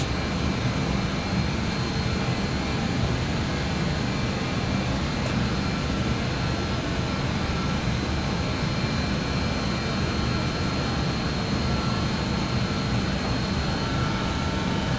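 Avro RJ jet engines held at takeoff thrust during a climb in a flight simulator, a steady, loud, broadband roar with a low rumble that stays constant throughout, with no talking.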